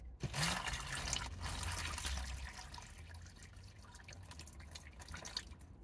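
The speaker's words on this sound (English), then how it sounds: "So I'm gonna fill it with water and see if it leaks." Water pours and trickles into a plastic car sick bag, a close, quiet splashing fill followed by softer dripping and trickling that fades toward the end.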